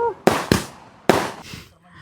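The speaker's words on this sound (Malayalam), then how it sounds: "പടക്കം പൊട്ടി" Firecrackers bursting at a championship celebration, three sharp loud bangs in quick succession with a fainter fourth pop, each followed by a short decaying echo, close by.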